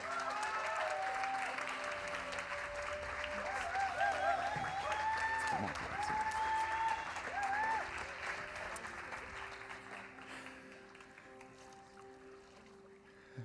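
Clapping from the congregation at a church baptism, a steady, moderately distant patter of applause that runs on and slowly thins out, with faint voices underneath.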